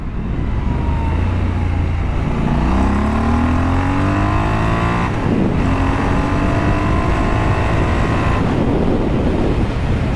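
A Triumph Scrambler 1200 XE motorcycle with its 1200 cc Bonneville twin engine revs up loudly and steadily, pitch climbing through the throttle, dipping briefly around midway, then rising again, close and continuous throughout.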